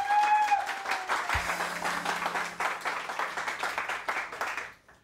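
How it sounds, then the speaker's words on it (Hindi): Studio audience on a Pakistani morning show applauds, steady clapping from a seated crowd that tapers away at the end, with a faint tone at the start. "आप लोग के लिए भी तो ताली होनी चाहिए"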